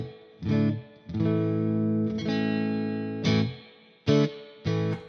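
Electric guitar through a Marshall Valvestate 8100 amp with reverb turned all the way up, played as several sustained chords that ring out and decay in short bursts, with a light, not very splashy tail.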